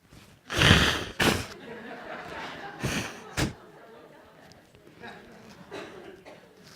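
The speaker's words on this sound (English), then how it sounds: "I'm blowing my nose a lot." Someone with a cold blows their nose in several loud honking bursts, close by, with quieter sniffles and breathy noises trailing off afterward.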